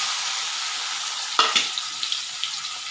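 Chopped onion joins a small dried chilli and garlic in a pan for ilish paturi, a steady hiss that bursts into louder crackling spits partway through and then keeps popping, without speech.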